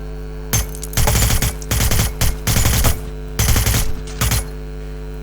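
Gunfire in the Hitman video game: loud, close bursts of rapid automatic fire in several separated volleys, each lasting under a second, with short gaps between.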